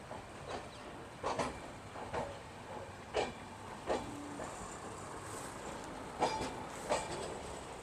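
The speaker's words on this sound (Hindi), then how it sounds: "अपनी जैसलमेर साबरमती एक्सप्रेस निकल चुकी है जैसलमेर रेलवे स्टेशन से।" The Jaisalmer Sabarmati Express departs Jaisalmer railway station in the Thar Desert heat, with steady rolling rumble and hiss and periodic soft clickety-clack of wheels over rail joints, heard from on board at a moderate, even level.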